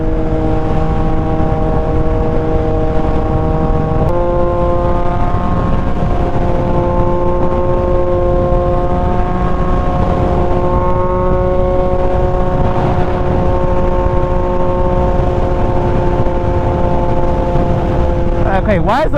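Loud, steady engine drone from a 2022 Yamaha XSR900 motorcycle while riding, with a humming tone that shifts pitch as it changes gear and wind roar throughout.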